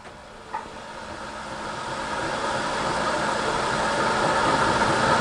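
A Verteq 1600-55 spin rinse dryer starts a 30-second rinse cycle, its steady motor hum and whir rising slowly and growing louder over several seconds after a short click near the start, with no talk.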